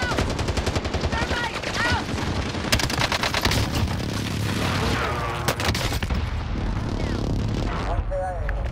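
Dense, continuous gunfire from Call of Duty: Modern Warfare, with rapid automatic bursts and explosions layered together throughout, under shouted in-game voice callouts.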